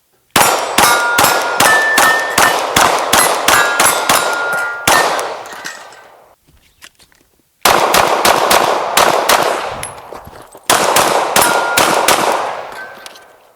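Rapid strings of PSA Dagger pistol shots, each followed by a ringing clang as steel plates are hit at 30 yards on an outdoor range. Three loud bursts of evenly spaced shots with metallic pings, no talking.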